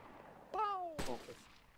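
Gunfire from a weapon in the video game Wasteland 2: one sharp, loud shot cracks out right after a brief rising tonal sound, then fades quickly against a quiet background.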